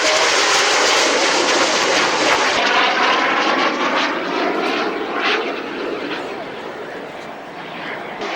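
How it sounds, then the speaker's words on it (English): A Harrier GR7 jet roars loudly with broad engine noise at an air fair, gradually easing off as it moves away; a steady, distant-to-mid rumble without speech. "I can hear a Harrier out there. It's a Harrier GR7."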